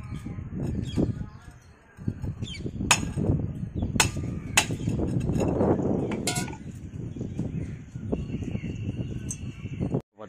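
Metal hammering on a solar panel stand being fixed together with tube bolts, a series of sharp ringing strikes at uneven intervals over an outdoor background with birds calling.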